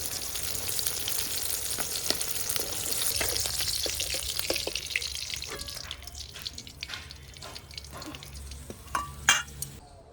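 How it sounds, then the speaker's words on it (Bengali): Small fish sizzling in oil in a wok, fried until red and crisp: a steady, dense hiss with scattered pops and crackles that thin out toward the end, close and moderately loud. "খুব ভালো করে লাল লাল করে ভেজে নেব। এই দেখো মাছগুলো এরকম খুব লাল লাল করে ভেজে নিয়েছি।"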